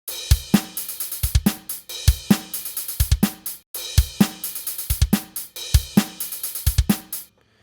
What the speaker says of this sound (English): let's have a listen to that kick drum now